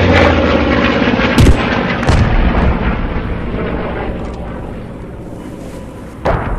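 Mortar rounds fire in the World War II game Post Scriptum, loud heavy thumps with booming tails, a few distinct shots spaced a second or more apart over a continuous rumble.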